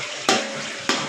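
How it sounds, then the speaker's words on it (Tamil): Ginger garlic paste being sautéed in a pan for mandi biryani gives a steady sizzle, with two sharp bursts of stirring. "2 ஸ்பூன் இஞ்சி பூண்டு பேஸ்ட்டை சேர்த்துக்கலாம். நல்லா வதக்கிக்கலாம்."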